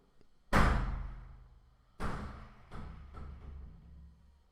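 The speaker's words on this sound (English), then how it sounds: "that was the door, sorry" A door in a room thuds shut with one sharp bang, then two softer knocks or bumps follow a second apart, all fairly faint.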